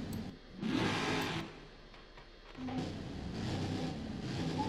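A Ford Super Duty pickup engine in the video game Forza Horizon 5 revs up in two loud, sustained swells separated by a brief dip, with steady engine drone between them and no talk.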